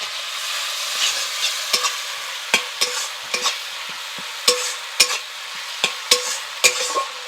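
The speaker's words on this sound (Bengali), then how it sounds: "আমি এর মধ্যে আদা বাটা দিয়ে দিচ্ছি।" Ginger paste sizzles steadily in hot oil in a pan, with repeated sharp scrapes and taps as a spoon stirs it, all close and with no talking.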